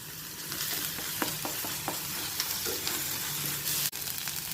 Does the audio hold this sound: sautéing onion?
yes